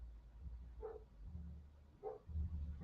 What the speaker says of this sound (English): I don't even know what dog it is. It's probably next door.